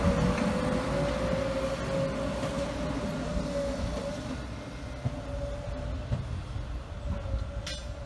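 A rumbling Class 215 diesel locomotive at track construction work drones steadily with a low hum and clanking, heard from nearby outdoors at a station, with occasional metallic squeals.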